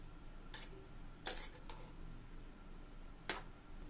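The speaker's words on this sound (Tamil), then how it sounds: "இப்போ நம்ம இதை கிளறி விட்டு எப்படி வந்திருக்குன்னு பார்ப்போம்" A spoon scraping and clinking against a pot while stirring freshly cooked vegetable pulao, a few sparse faint metallic ticks and taps over quiet kitchen background.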